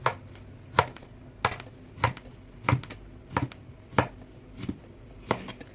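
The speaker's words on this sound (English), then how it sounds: "I'm gonna first cut the tuna with the help of a knife" Knife chopping through a piece of partly frozen tuna on a board, nine or so sharp, evenly spaced cuts close to the mic with brief quiet gaps between them, no one talking.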